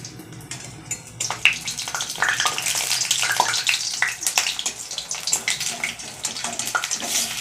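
Flower fritters fry in hot oil in a home kitchen, a bubbling, spattering sizzle that swells after the first second and stays busy and close, with irregular pops, no speech.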